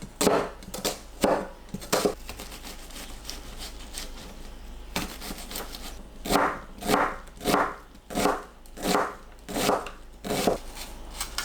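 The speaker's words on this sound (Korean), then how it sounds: "양파를 잘게 썰어주세요." Onion being finely chopped with a knife on a board, with bursts of close, rhythmic thuds, sparse at first and then a steady run of strokes roughly every half second.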